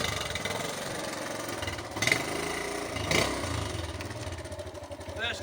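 A Honda Cub C70 classic motorcycle under restoration runs with a steady, close engine hum and two brief revs rising above the idle.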